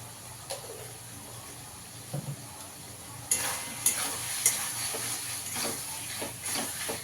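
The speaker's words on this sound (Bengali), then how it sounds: "হিংটা দিয়েও একটু ভালো করে মিশিয়ে নেব" Asafoetida and other spices being stirred into a soya bean curry in a hot pan: steady oil sizzle and hiss with scattered scraping stirs, growing louder and busier midway, with no talking.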